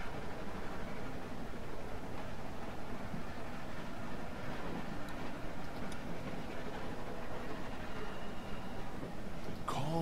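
A train runs continuously in The Walking Dead video game, a steady rumbling clatter of wheels and carriage noise with a brief metallic squeal near the end.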